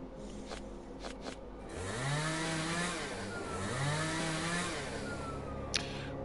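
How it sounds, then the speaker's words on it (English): A video game chainsaw revs up twice with rising, snarling engine whines over a low idle rumble, preceded by a few sharp clicks and ending with a brief knock. "Ooh, chainsaw."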